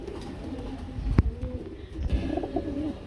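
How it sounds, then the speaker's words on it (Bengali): A pair of silver-coloured pigeons coo softly nearby in low, throaty bursts, with a couple of sharp knocks and steady background hum. "আমরা এখানে দেখতে পাচ্ছি সিলভার কালারের মধ্যে এক জোড়া গররা কবুতর রয়েছে"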